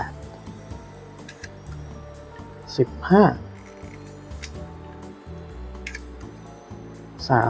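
Several crisp mechanical shutter clicks from an Olympus Pen D3 or Pen S film camera fire at various speeds one after another at uneven intervals, close up, with a voice briefly heard between them.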